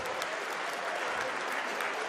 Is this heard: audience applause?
yes